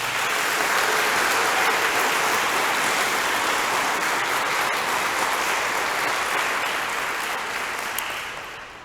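Sustained, loud applause from a crowd at a Catholic school graduation ceremony, holding steady for several seconds before tapering off at the end.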